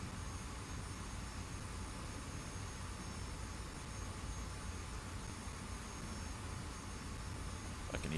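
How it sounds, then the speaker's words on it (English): Jet engines of aircraft in the DCS flight game, likely an F-5, hold a steady broadband roar throughout, a continuous moderate-level hum with no talk over it. "I can hear jet engines."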